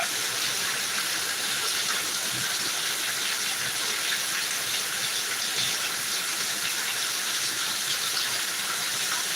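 Heavy rain pours down in a dense, unbroken roar of hissing water, loud and close throughout with no voices.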